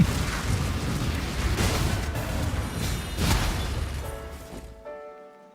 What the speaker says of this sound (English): Boom. More explosions.